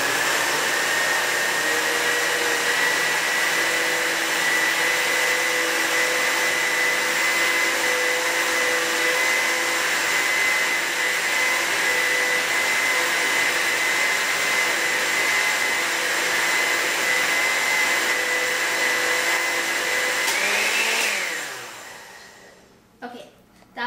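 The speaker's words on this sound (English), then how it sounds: "Alright, and now we're going to puree it." A blender purees vegetables with a loud, steady motor whine that holds at a constant pitch for about twenty seconds. It then spins down and falls quiet.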